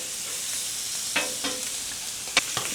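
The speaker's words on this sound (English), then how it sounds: "All right, let's drop this shrimp real quick." Shrimp hitting a hot hibachi grill, with a steady hiss of sizzling and a few sharp spatters and clicks. The sound is close and loud and carries no speech.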